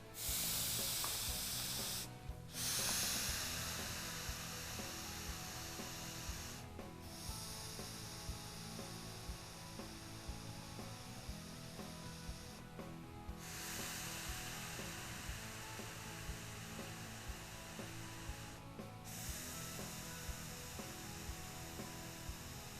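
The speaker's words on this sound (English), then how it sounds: "Once you can hear that steam dying off, go ahead and let go" A loud, steady hiss of steam rises from a heated synthetic dreadlock being sealed, running almost continuously, broken by a few brief pauses, with faint rubbing underneath.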